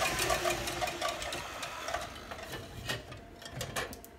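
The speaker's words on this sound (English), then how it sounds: "I love a mixer that I can just let go while I'm doing other stuff" An electric mixer runs steadily in a kitchen, beating cut potatoes for a roast dinner with a low mechanical whir and faint rattling, fairly quiet and alone.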